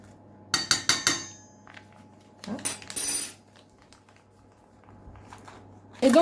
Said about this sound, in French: Et donc je viens remuer ce mélange d'œufs, sucre, vanille.